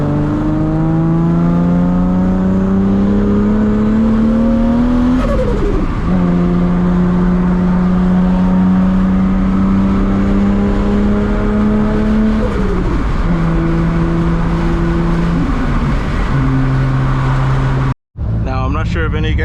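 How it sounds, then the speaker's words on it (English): Engine of a 1000+ hp Toyota Supra MK4 turbo with a Boost Logic muffler, droning steadily from inside the car with rising and falling revs and gear-shift dips, and turbo flutter on lift-off, ending in a brief cut near the close. "You can hear the turbo flutter a lot louder now, and that's simply because I put the muffler back on."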